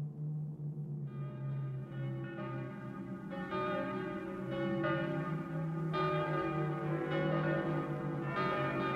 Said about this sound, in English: While the bells toll ominously outside